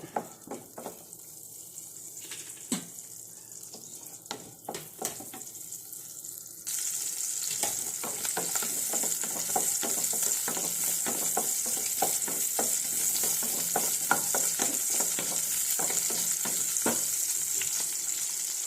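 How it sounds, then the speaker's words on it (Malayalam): Shallots fry in coconut oil, a steady crackling sizzle with scattered pops that grows louder and denser partway through and then continues close and unbroken, with no voices. "ഇച്ചിരി വെളിച്ചെണ്ണ ഒഴിച്ച് അതിനകത്തേക്ക് ഇട്ടൊന്ന് ഫ്രൈ ആക്കി എടുക്കണം"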